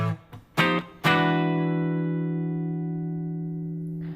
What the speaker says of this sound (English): We're going to play a chord known as a ninth chord.